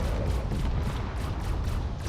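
Cannon shells fire in a space battle in the Drone Wars video game, a dense, continuous rumble of rapid booms and explosions with a pulsing rhythm, loud and unbroken.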